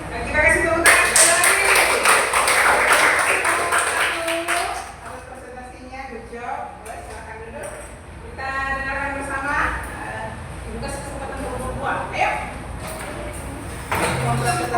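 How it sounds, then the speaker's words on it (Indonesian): A burst of clapping from students in an Indonesian eleventh-grade Christian religious education class swells loudly for several seconds, then fades as classroom talk continues underneath. "Kita kasih tepuk tangan."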